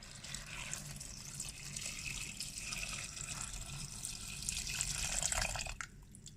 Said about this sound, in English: I now put here 1 liter of water and we bring it to boil.